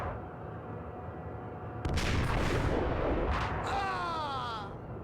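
Rifle gunfire in the Max Payne video game, bursting in suddenly after a quieter stretch, loud rapid shots and blasts layered together, with a voice speaking briefly.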